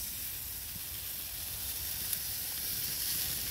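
Meat searing on a backyard barbecue grill, a soft continuous sizzle and hiss at low level with one brief crackle, no voices.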